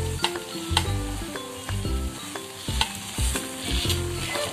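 Masala amboli batter sizzles in a pan, with a steady frying hiss and repeated stirring scrapes and clinks of a spatula against the pan, close and fairly loud, with no talk.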